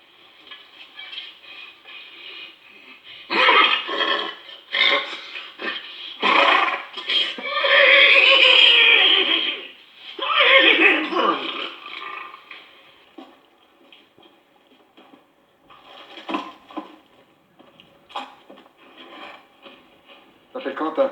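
A man imitates a horse whinnying with his voice, a series of loud breathy bursts followed by two long quavering neighs, then softer snorting sounds, close to the listener.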